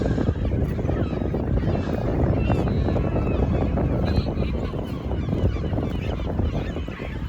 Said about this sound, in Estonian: Saareke, mis on kormoranide poolt ära vallutatud.